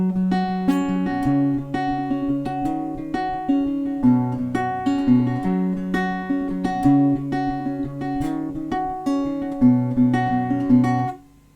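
Solo guitar plays the verses of a song in standard tuning, a barre chord progression picked in a clear, rhythmic pattern with ringing notes, close and fairly loud, fading at the end.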